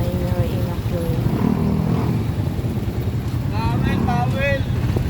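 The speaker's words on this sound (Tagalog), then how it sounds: "Nag-tricycle lang ako papunta doon." A motorized tricycle ride in the Philippines, its engine a steady low drone with wind and road noise throughout, while voices talk over it.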